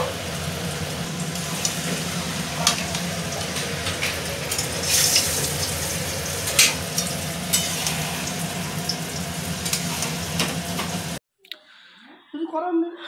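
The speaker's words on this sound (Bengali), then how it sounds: "আর ওদিকে হচ্ছে ছেলের মাছ ভাজা" Fish frying in a pan at a home picnic gives a steady crackling sizzle with sharper spits and pops, carried by speech over most of the clip, then a sudden cut to near silence for the final seconds.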